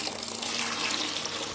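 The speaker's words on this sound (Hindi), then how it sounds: "एक बार पानी और डाल दिया इसमें" Hot water pours steadily into a tub for a naturopathy fever treatment, a continuous close splashing rush with no talking.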